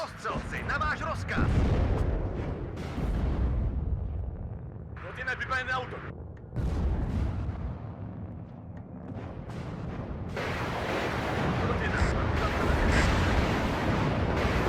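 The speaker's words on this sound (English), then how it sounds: "The rocket artillery coming down there is going to be pretty clutch" Rocket artillery strikes in the wartime strategy game WARNO, deep rumbling booms and crackling explosions rolling on and off for a long stretch beneath someone talking over them.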